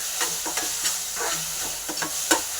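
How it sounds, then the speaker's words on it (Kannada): Coriander fries in hot oil in a pan for a dahi bhindi masala, a steady sizzle with intermittent scraping stir strokes at close range and no voices. "ಎಣ್ಣೆಲಿ ಫ್ರೈ ಮಾಡೋದ್ರಿಂದ ಕೊತ್ತಂಬರಿ ಚೆನ್ನಾಗಿ ಫ್ಲೇವರ್ ಎಲ್ಲ ಬಿಟ್ಕೊಳ್ಳುತ್ತೆ"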